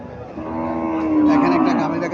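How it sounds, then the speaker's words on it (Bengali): A lean, bony Sahiwal cow at a cattle sale in Comilla gives a single long, loud moo that swells in the middle, heard close with little else around it. "এখানে একটা গাভী দেখা যাচ্ছে"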